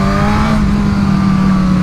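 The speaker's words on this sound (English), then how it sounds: "These things have a real robust engine character." A Suzuki Katana motorcycle's engine and exhaust hum steadily and loudly at close range for about two seconds, with a firm, even revving drone and no talk.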